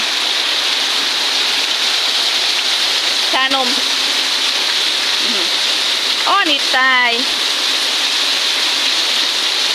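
Heavy rain pours in a constant loud hiss at a home where cats and dogs are kept, with a voice calling out briefly twice over the downpour.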